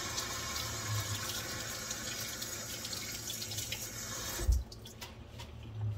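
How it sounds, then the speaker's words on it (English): Hands being rinsed under a running household tap: water streams steadily into a sink for several seconds, then cuts off with a knock and a few drips. "I'm going to rinse my hands."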